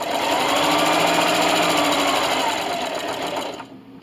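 A sewing machine stitches through recycled denim for a draft stopper, running in one steady, close, continuous burst of rapid needle chatter before stopping abruptly near the end, with no voices.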